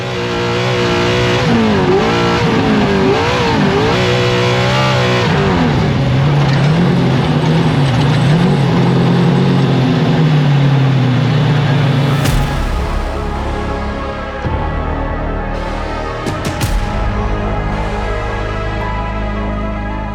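A loud off-road race truck engine at the Baja 1000 revving and roaring up close, with rattling mechanical gear noise and rising, falling pitch as it accelerates.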